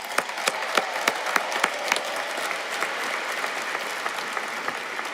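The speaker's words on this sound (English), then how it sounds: "let's hear a quick round of applause for everybody" An audience at an undergraduate degree ceremony for the class of 2026 claps, with a few sharp claps up front and then a steady round of applause filling the room.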